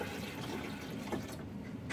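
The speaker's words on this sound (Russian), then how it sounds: "Мы теперь наливаем в бункер для воды водичку." Water poured steadily into the water tank of a Bosch Benvenuto Classic Piano TCA 5201 coffee machine, a continuous close splashing fill with no talking.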